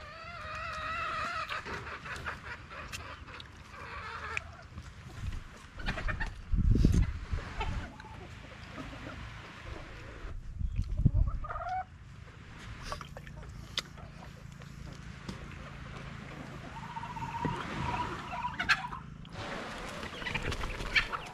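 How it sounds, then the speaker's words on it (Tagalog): Chickens clucking in a busy outdoor setting, with several birds calling over steady background noise and a few louder bursts. "Grabe yung mga manok mga master oh."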